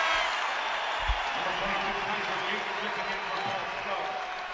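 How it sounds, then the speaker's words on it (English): Basketball arena crowd cheering during a college game between Creighton and Xavier: a dense, continuous roar of fans that stays loud and even throughout, with no voices standing out. "And listen to the crowd."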